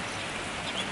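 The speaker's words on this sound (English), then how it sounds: "it's raining" Rain falling outside on a school-trip day in Japan, a brief, steady hiss of drops with no speech.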